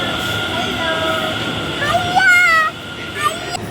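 A metro train at a crowded station platform, loud rumbling and rail noise with high squealing brake tones as the train pulls in.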